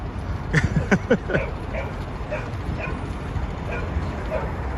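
A small dog at a city dog run yips and barks in a quick burst of several sharp barks, then fainter scattered yaps over street background hum.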